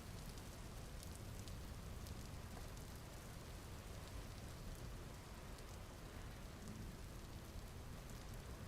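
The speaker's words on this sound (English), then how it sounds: "What a beautiful night to be out here standing in the rain." Steady rain at night in the video game Vintage Story, a dense, even hiss of falling drops that continues unbroken throughout with no talking.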